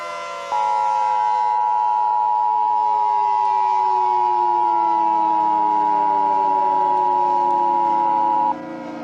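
An Emergency Alert System attention signal sounds as one loud, continuous, steady electronic tone held unbroken for about eight seconds, with nothing else over it.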